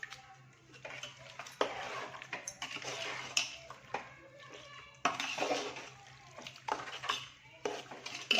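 Chicken tossed with masala in a pot for a spicy Maharashtrian chicken rassa, with irregular scraping and clinking of a spoon against metal and soft sizzling; no talking.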